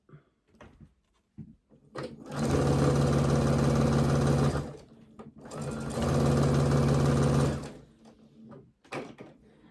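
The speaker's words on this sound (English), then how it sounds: "And then we're going to come in here and we are going to sew it." A sewing machine stitches quilt pieces in two steady, loud whirring runs of about two seconds each, separated by a short pause, with light handling noises before and after.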